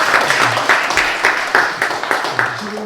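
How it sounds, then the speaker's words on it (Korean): Applause from an audience at a civic education lecture, a moderate crowd clapping steadily with some sharper claps standing out, a faint voice murmuring briefly near the end. "우선 박수부터 한번 주시죠."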